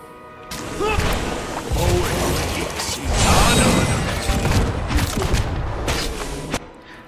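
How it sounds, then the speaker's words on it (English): Cannon fire in a Pillars of Eternity battle booms and thuds amid clashing combat effects, with a voice talking over the busy, dense fight. "Here, cannon fire."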